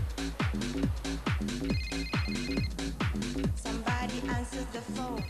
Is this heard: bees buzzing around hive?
no